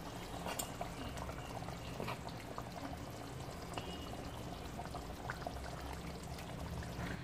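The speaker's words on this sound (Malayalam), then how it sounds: "ഉടൻ തന്നെ നമുക്ക് മീൻ ചേർത്ത് കൊടുക്കാം ഞാൻ ഇട്ട് കൊടുക്കുന്നു" Sardines dropped into a simmering chili curry in a pan, with soft liquid plops and bubbling under a steady low cooking hiss, fairly quiet and close.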